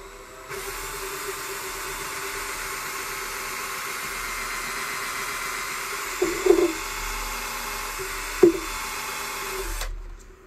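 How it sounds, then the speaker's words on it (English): A power drill whirs steadily for about nine seconds while making a Christmas ornament, with two short louder bursts near the end before it stops. "so I just set up a drill"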